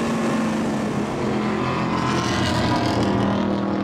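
Dutch Supercars race cars at the Assen circuit in 2011 roar past at full throttle on a very fast section, a loud, continuous engine drone with shifting pitch and no talk.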